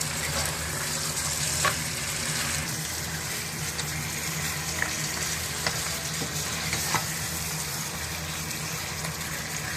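Peshawari namkeen gosht, meat with salt, being stirred in a pot, a steady sizzling fry with scraping spoon strokes and a few sharp clinks against the metal, close and continuous without voices.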